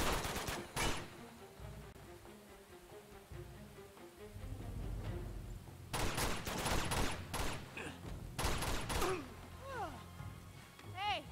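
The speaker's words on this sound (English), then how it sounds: "I'm just using the signs as cover as I shoot all of these" Gunfire in Uncharted 2: Among Thieves: rapid bursts of automatic shots crackle in clusters at the start and again midway, loud and close, with gaps of quieter game ambience between.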